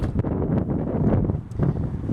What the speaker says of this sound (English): It is a windy day, folks.